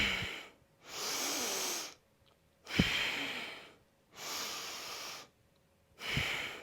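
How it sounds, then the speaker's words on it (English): Deep yoga breaths in a hatha class for swimmers: three long, airy inhale-exhale cycles, close and even, with short silent pauses between them and a faint nasal snort at the start of some. "So let's do 5 deep breaths here."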